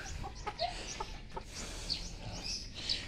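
A bulik gamecock clucking nearby in the morning, a few short soft clucks and chirpy calls over a steady outdoor background, no voices.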